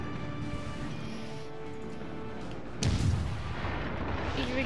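Naval artillery guns fire during a World of Warships: Legends sea battle, one sharp heavy cannon blast cracking out over a steady engine drone and rumbling on afterward.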